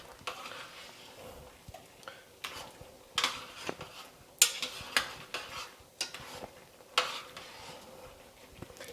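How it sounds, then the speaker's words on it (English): Seafood stuffing with Italian breadcrumbs being stirred in a pan, with irregular scraping strokes and soft clinks of a utensil against the pan, close and moderately quiet, with a faint sizzle underneath. "So let's add that first one there and stir that up."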